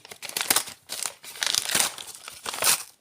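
A paper surprise packet is torn and crinkled open by hand, with several close bursts of rustling, ripping paper in an uneven rhythm and no talking.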